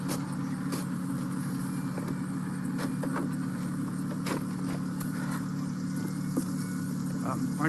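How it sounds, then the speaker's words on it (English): A truck engine idles steadily at close range during unloading, a low constant rumble with occasional clicks and knocks of handling over it. "Aren't you going to turn off the engine?"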